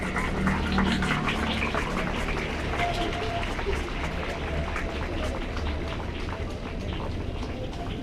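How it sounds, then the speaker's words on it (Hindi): An audience claps in an auditorium at a Delhi Braille birth-anniversary celebration, a dense, sustained patter of many hands that stays fairly loud throughout, with faint voices beneath. "तो तालियां खूब जोर से बजानी चाहिए"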